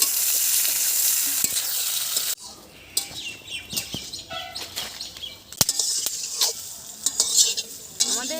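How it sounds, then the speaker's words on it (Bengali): Young jackfruit pieces fry in oil, giving a close, bright sizzle that drops away midway, then scraping stirs and clinks before the hiss returns; faint bird chirps sit in the background. "এবার এঁচোড়গুলো ভেজে নেব।"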